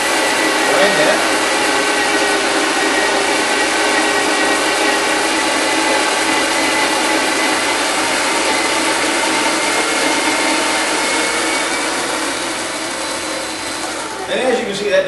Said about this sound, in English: we'll go ahead and grind that